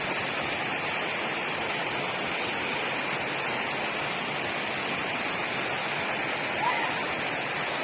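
Water pouring and flowing, likely a waterfall at Machhakandana, a loud steady broadband rush that holds unbroken throughout.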